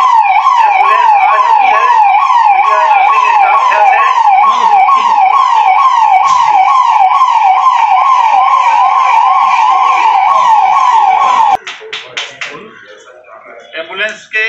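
A loud, close ambulance siren in Gorakhpur wails in a rapid rising-and-falling cycle for about eleven seconds, then cuts off abruptly, leaving brief clatter and voices.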